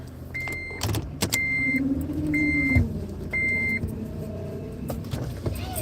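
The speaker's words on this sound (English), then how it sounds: "Let me just pull the car over there anyway." A car drives along and then slows to pull over outdoors, engine and tyre noise steady throughout, with a few short electronic beeps and a brief thump near the middle, no talk.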